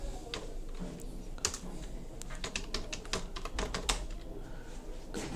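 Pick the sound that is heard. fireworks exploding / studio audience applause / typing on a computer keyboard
typing on a computer keyboard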